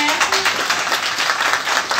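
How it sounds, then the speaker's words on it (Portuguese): An audience at an anthology book launch claps steadily for two seconds in a dense, moderately loud round of applause, with a voice briefly audible at the start. "eu pediria uma salva de palmas assim, para"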